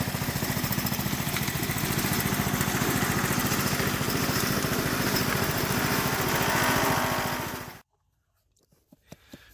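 A gas-powered 1.5 inch trash pump engine on a gold-mining wash plant idles with a loud, steady, rapid chugging close by, then cuts off abruptly and leaves near silence with a few faint clicks.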